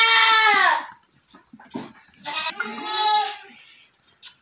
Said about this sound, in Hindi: एक और बकरी है जो कि बहुत खूबसूरत है और क्वालिटी में एक नंबर है